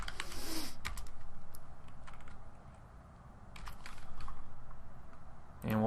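Quick bursts of keystrokes on a computer keyboard as a file name is typed, close and fairly soft, with short pauses between runs of clicking.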